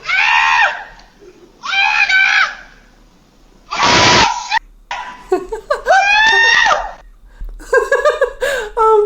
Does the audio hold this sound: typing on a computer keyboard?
no